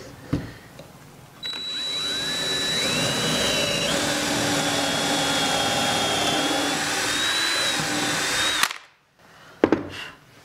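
A power drill whines steadily for several seconds, its pitch rising as it bites in to a set depth, then stops abruptly, followed by a few handling clunks.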